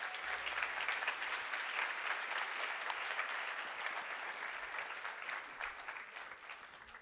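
Audience applause at a church or religious gathering, a steady, moderately distant patter of many hands clapping that gradually thins out.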